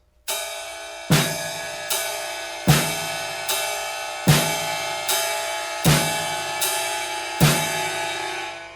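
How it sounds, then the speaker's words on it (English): A steady beginner drum pattern alternates right-hand ride cymbal strikes with left-hand snare hits, each ringing out with a shimmering wash, played at an even moderate tempo. "we're going to play the ride cymbal with our right hand and the snare with our left hand."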